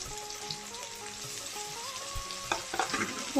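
Ginger, garlic and green chilli paste frying in a pan with tomato and onion, with a steady close sizzle throughout, brief stirring scrapes, and a louder burst of crackling near the end.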